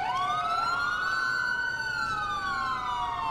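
An ambulance siren wails in the video game GTA IV, a clear rising and falling tone sweeping steadily at moderate distance over faint background noise, with no talk.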